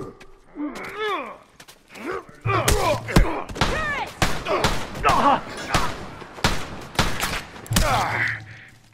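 Gunfire and a grenade blast crash through a combat scene in The Last of Us, heavy thuds and bursts of shots under shouted voices of soldiers talking throughout.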